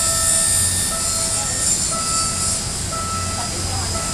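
PNR train in the Philippines, a steady loud rumble of rail cars with faint high tonal whines above it and indistinct voices mixed in.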